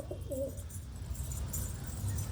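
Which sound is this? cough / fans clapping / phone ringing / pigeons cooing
pigeons cooing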